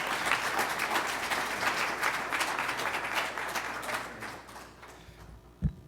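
A conference audience gives a sustained round of applause for a duo, with dense, even clapping that gradually thins and fades toward the end, followed by a soft thump.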